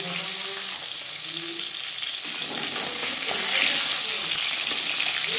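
Taki fish, rubbed with salt and turmeric, frying in hot oil in a pan: a dense, continuous sizzle close by, swelling slightly louder toward the end with faint clatter beneath.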